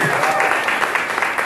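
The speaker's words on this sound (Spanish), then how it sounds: "Aplaudan, aplaudan." An audience applauds during the announcement of Latin GRAMMY nominees, a brief, fairly loud burst of mixed clapping with voices mingled in.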